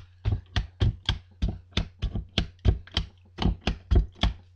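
A hand meat tenderizer pressed repeatedly into a raw steak, making a steady run of about fifteen crisp, close punching thuds in an even rhythm over a low hum.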